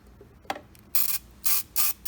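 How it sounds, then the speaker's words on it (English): A pump oil sprayer mists butter flavor spray onto chicken wings for an air fryer, giving three loud, close hissing bursts after a couple of soft mechanical clicks. "and it sprays right on like that."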